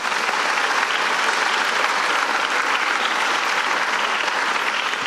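An audience at a business association event applauds steadily, a dense, even wash of clapping that holds at full strength throughout with no pauses.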